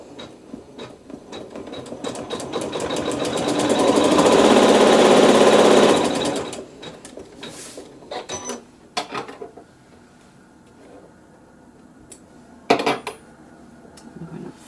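A sewing machine stitches a quilt seam in a fast, rhythmic whirring run that swells over a few seconds and then stops, followed by scattered handling clicks and fabric rustles.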